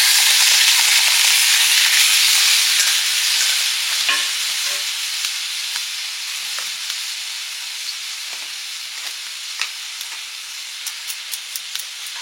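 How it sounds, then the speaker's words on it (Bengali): Boiled peas and potatoes tip into cooked masala in a pan and get stirred, starting with a loud bright sizzle that slowly fades, with scattered scraping clicks and taps of the spoon near the end. "মটর আলু সেদ্ধটা ঢেলে দিচ্ছি।"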